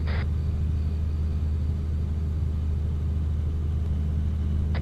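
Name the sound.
vehicle engine in the video game Arma 3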